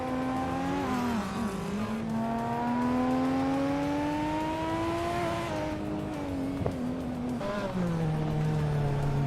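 Race cars including a Nissan Skyline, Porsche and Ford Sierras roar through a racing game, engine tones climbing and falling with shifts and a brief tire squeal, steady and fairly close.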